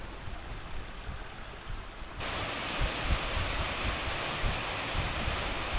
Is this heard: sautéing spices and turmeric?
no